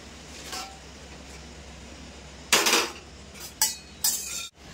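Cooked kharkol greens are tipped out of a metal pot, giving a few loud clanks and scraping clinks of cookware at irregular intervals against a quiet room.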